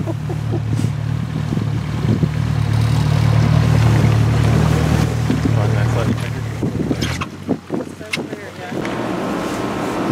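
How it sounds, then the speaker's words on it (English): A boat motors up on the water in Antarctica, its engine a strong, steady low drone that fades out after about seven seconds, with wind buffeting the microphone and faint voices nearby. "waiting for our boat to pull up"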